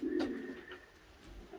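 Racing pigeons coo at a loft, giving a brief soft, throaty call up close over faint background noise.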